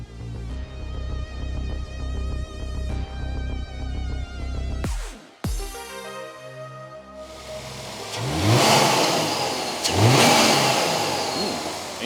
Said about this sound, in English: Intake noises.